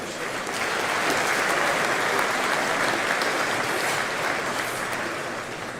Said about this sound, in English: So please give a round of applause for all of my colleagues at Houston First.